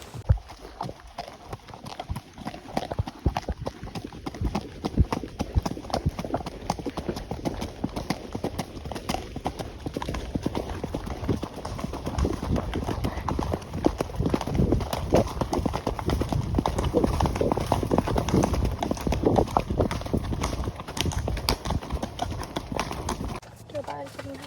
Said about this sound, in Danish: Kort trav. Vi tager en lille trav til vloggen her.